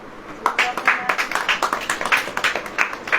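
An audience at a church sermon claps for a few seconds, a steady patter of hands rising in the middle and continuing to the end, fairly close and moderately loud.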